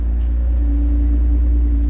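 Toyota Avalon TRD engine idling near the exhaust, a steady deep low rumble with a constant hum, loud and even throughout with no speech.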